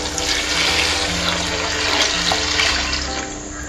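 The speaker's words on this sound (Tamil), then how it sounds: "இப்போ தண்ணி ஆட் பண்ணிக்கலாம்." Water gushes steadily into a pan of sautéed vegetables for rava kichadi, a continuous rushing splash, loud and close, no voices.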